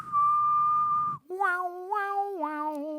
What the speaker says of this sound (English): I'm gonna whistle something, and you're gonna tell me what movie it's from.